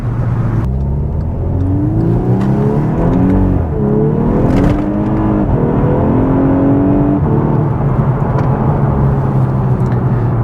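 A 2014 VW Scirocco R accelerating hard in manual mode, its engine loud and close from inside the cabin, pitch climbing through the gears with clear drops at each shift.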